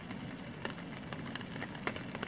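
Rain pattering on a tarp or tent at a campsite on Red Rock Lake in the Boundary Waters, a soft steady patter with scattered sharper drops and a faint continuous hiss, and no voices.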